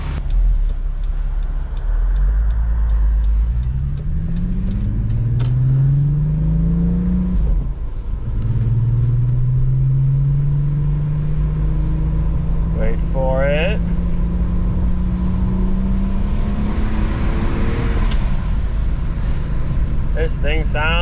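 A VR6 Jetta Wagon's engine revs hard several times, each climbing, rising whine swelling out of a deep idle. A person speaks briefly at the start, and a faint chirping sound is heard near the end.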